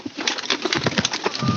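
Pet pigeon kept indoors cooing close by, a quick series of soft throaty coos in a steady pulsing rhythm, with no talking.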